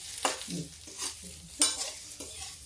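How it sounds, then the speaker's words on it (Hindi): Frying for kadhi in a pan, with a spoon scraping and stirring in short irregular strokes over a soft sizzle, close and moderately loud, with no talking. "इसको धीरे धीरे फ्राई कर देते हैं।"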